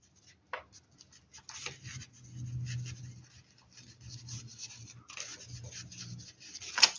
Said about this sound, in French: je vais me le noter pour vous